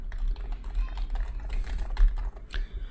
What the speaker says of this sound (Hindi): अभी मेरे माइक के बिल्कुल पीछे मैकेनिकल कीबोर्ड है, मैं इसके कीज़ प्रेस करूँगा